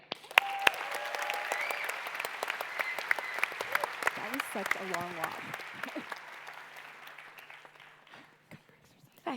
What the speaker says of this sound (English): Big cheer.